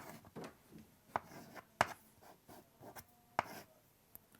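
Writing on a board during a mathematical physics lesson on partial derivatives: quiet scratchy strokes broken by several crisp taps and clicks in an irregular rhythm, close by and with no talking.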